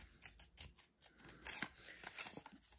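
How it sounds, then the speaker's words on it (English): Scissors snip through an index card along drawn lines, a quick irregular series of close, crisp cuts and rustles, fairly quiet with no talking. "you're going to cut these on the lines you made for the index card"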